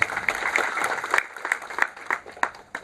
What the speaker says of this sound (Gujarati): તાળીઓ પણ થઈ જાય એમના માટે એકવાર.